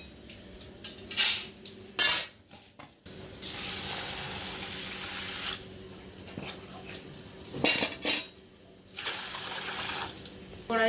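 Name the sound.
water poured over roasted dal to wash it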